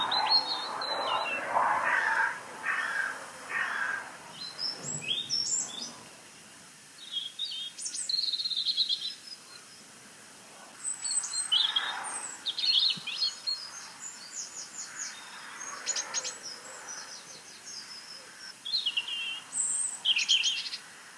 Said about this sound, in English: It's a blue tit scolding.